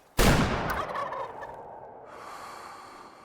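Wild turkeys in a hunting game burst into a single loud, close gobble that trails off into a softer rattle and faint breathy ambience.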